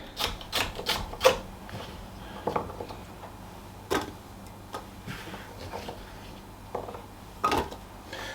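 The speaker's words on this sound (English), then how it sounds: "I'm just going to chop these up a little bit before I pop them in" Carrots chopped with a knife on a board in a home kitchen, a series of sharp, irregular taps and clicks close by, some in quick bursts and others spaced out, with no talking.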